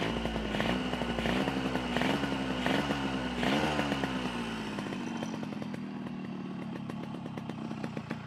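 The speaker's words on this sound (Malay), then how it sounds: "Jadi ini untuk saya panaskan engine" A Yamaha RXS 115 two-stroke motorcycle engine idles while warming up, sounding as a close, buzzy ring-ding with uneven revs, a few blips early on, then settling to a steadier idle.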